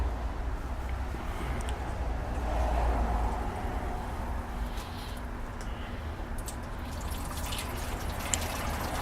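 Water from a pump running through a gold prospecting sluice, a steady close gush and trickle of liquid with a faint mechanical hum underneath, continuous throughout without talk.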